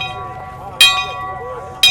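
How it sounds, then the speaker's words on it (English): At a hill climb event, two sharp metallic bell strikes, one near the middle and one at the end, each ringing out briefly over a murmur of background voices. "you get a chance to ring the bell."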